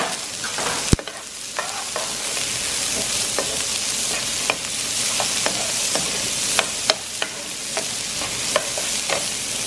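Onion sizzling in hot oil with garlic in a pot, for Levantine-style green beans in oil; a steady loud frying hiss with occasional sharp crackles and spoon stirring.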